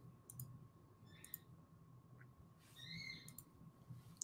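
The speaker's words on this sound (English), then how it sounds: "I hear you clicking." Faint, sparse clicks come through an online call over a low electronic hum, with a few thin squeaky chirps mixed in and no clear speech.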